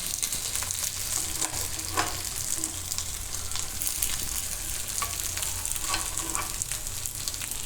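Sabudana appe frying in an appe pan as they are turned over, a steady close sizzle with a few soft clicks and scrapes of the turning tool, no talking.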